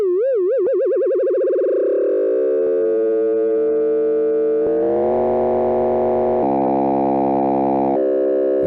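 A Flowstone synthesizer plays a sine tone that first warbles with slow vibrato, then is pushed into FM territory with the rate knob, turning into a buzzing, harmonically rich electronic drone that thickens in steps.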